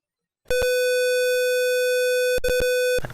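A microcontroller intruder-detection circuit sounds its buzzer alarm: a loud, steady electronic tone held for about two seconds, broken by a few short stuttering beeps near the end.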